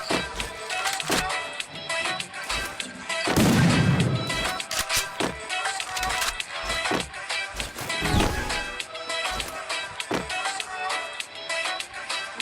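Gunfire in the shooting video game Free Fire: scattered sharp shots across the stretch, with heavier booming bursts around the middle and again later.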